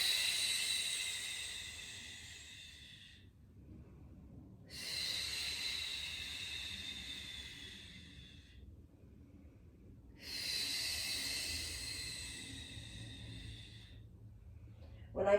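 Three long, breathy exhales during a Pilates twisting exercise, each lasting about three to four seconds with pauses between, soft and close, with no talking over them.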